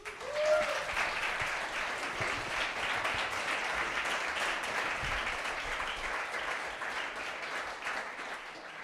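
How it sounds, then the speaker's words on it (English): Audience applause for an elite men's panelist at a Black Canyon Ultras race panel, steady dense clapping filling the room for the full stretch without fading. "let's give him a big round of applause"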